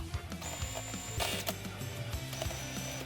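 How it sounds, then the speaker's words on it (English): A sewing machine straight-stitching down the edges of a fabric square for a holiday craft, giving rapid mechanical ratcheting clatter in uneven bursts with short pauses, close and fairly loud. "We're just gonna straight stitch down all the edges with the front side facing you."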